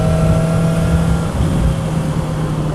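A motorcycle cruising steadily at about 30 miles an hour, its engine drone blended with loud broadband wind roar at a constant level and no change in speed.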